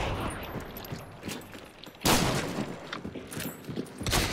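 Shotgun fire in Hunt: Showdown, a few sharp, loud blasts with one strong report around the middle and smaller distant shots between, set against quiet ambience.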